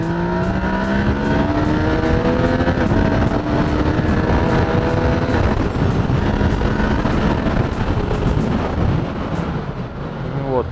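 A Yamaha Niken three-wheeled motorcycle accelerates, its engine note climbing through the gears under loud, constant wind rush, heard close from the rider's position.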